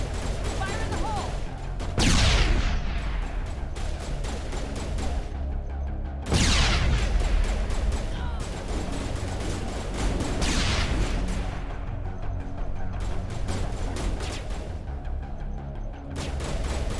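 Grenade explosions in Mass Effect boom out twice, heavy and close, amid a dense wash of rapid gunfire and battle noise, with voices speaking underneath.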